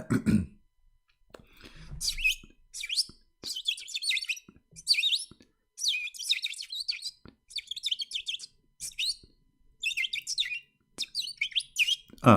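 A small green bird chirps in quick, high bursts, repeated in rhythmic clusters with short gaps, close and clear; a few low throat-clearing or cough-like sounds come in near the start.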